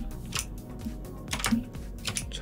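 Computer keyboard keys pressed in a Photoshop session while Shift is held and R struck, a run of light, irregular clicks close by with no voice.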